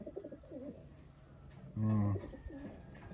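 Taiwan pigeon giving a low, close coo in a single rounded burst, with someone talking quietly before and after it.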